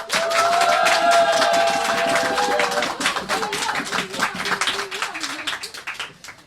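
An audience at a Saturday church worship service claps to welcome a music director. The dense clapping starts loud with voices cheering over it, then thins into scattered claps and fades.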